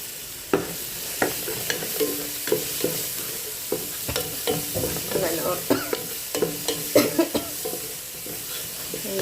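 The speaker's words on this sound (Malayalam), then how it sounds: "എന്നിട്ട് നല്ലോണം ഒന്ന് വഴറ്റണം." Spice paste with a few hot bird's-eye chillies being sautéed in a pan: a steady sizzle under repeated sharp scrapes and knocks of the stirring spoon, close up, with no voices.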